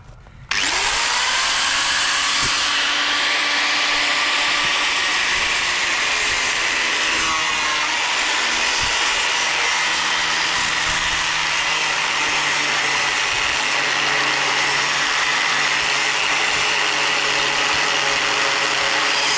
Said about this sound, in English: I should be able to then get the Sawzall down beside it.